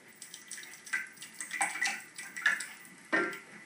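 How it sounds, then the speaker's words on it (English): Hot water splashes and gushes into a metal baking pan holding bread pudding in short, uneven pours, close by, with faint clinks of the pan. "The hot water goes in and around."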